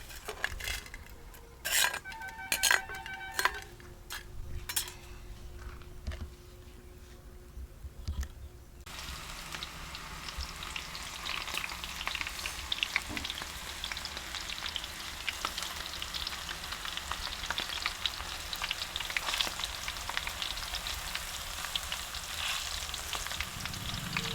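Okra (ladyfinger) fries in oil in a pan for a crispy dish, first with clattering utensil knocks and scrapes against the pan, then a steady, close, crackling sizzle that carries on to the end.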